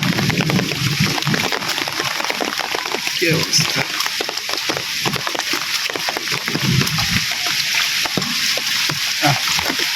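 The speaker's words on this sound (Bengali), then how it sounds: "পানি ভাঙিয়ে আস্তে আস্তে পিছলা রাস্তাঘাট" Feet wade through rain floodwater on a slippery village path, giving steady sloshing and splashing throughout, with a person talking over it.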